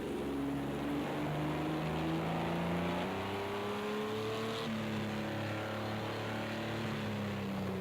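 Race car engine at Fuji Speedway, a continuous droning whine that climbs steadily in pitch through the gears and shifts partway through, loud and unbroken with no talk.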